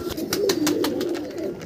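Pigeons of an Andhra breed coo in a short low burble, close and fairly clear, with a few soft flutters or taps over it and no talking.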